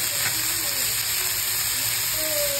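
Vegetables and ground black pepper for Maggi noodles sizzle continuously in a hot pan while a spoon stirs, scraping lightly, under a constant high hiss.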